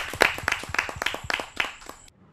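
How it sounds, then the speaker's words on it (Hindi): Applause from an audience at a Hindi poetry gathering: a quick, steady run of claps that stays close and bright for about two seconds and then stops abruptly, with no voices. "आप सबकी जोरदार तालियां।"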